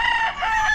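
Rooster crowing on a Philippine egg farm, one loud, close, harmonic call that dips briefly midway and then carries on, with no voices.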